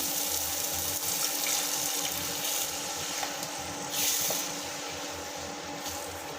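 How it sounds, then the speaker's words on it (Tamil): Steady running water splashes and hisses continuously into a pot of egg gravy, a constant pouring sound with a brief swell midway. "நம்ம தேவையான அளவு தண்ணி ஊற்றிக்கலாம்"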